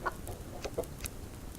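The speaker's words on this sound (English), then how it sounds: "Let's go and feed the chickens." Chickens cluck in the survival game Subsistence, a few short, close clucks scattered over a low background hum.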